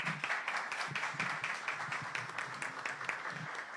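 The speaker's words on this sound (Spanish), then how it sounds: "que la recibamos con un fuerte aplauso" Steady applause from an audience at a university talk on preventing digital violence against women and girls, a dense patter of many hands clapping continuously at moderate volume, with no voices over it.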